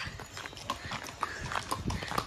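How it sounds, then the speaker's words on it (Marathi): Horses' hooves clip-clop on the ground at Ganpatipule beach, a quick uneven run of nearby steps with faint background noise and no talk. "हे बघा गणपतीपुळेचे घोडे"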